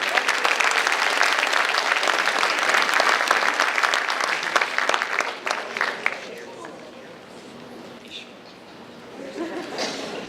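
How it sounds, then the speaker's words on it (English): Audience at a high school underclassmen awards night claps in a dense, steady round of applause that thins out and fades after about six seconds, leaving quieter room noise. "A nice round of applause for Shane."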